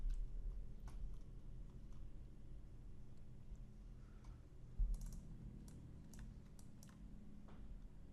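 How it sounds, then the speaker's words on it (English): Someone types search words on a computer keyboard while building a map in the Far Cry 5 map editor. The keystrokes come as faint, scattered clicks, quiet and close, over a low steady hum. "Let's type in sand."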